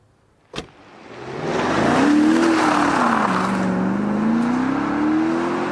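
Power window on a BMW X6 M50i running inside the cabin, a sharp click followed by a steady, close electric motor whine that rises and falls slightly in pitch as the glass travels, with no talk.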